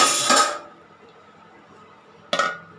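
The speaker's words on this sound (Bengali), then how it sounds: "তো ঢাকনাটা দিয়ে দিব।" A metal lid clatters onto a cooking pot of shing fish curry, a sharp close clank at the start and a second clink near the end, with quiet between.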